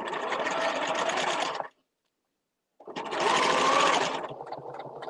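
Sewing machine stitching trim onto a fabric binder cover, running loud and steady in two bursts separated by a pause of about a second, the second run slowing toward the end.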